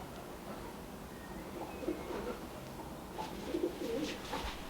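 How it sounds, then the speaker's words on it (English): Pigeons perched just outside a door give soft, low cooing calls in a few short bursts against steady room noise, with no one speaking. "2 pigeons came and sat on our thing."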